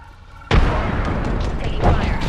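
A frag grenade goes off in a video game as one sudden loud blast, followed by a sustained rumbling roar of combat noise with a second swell near the end.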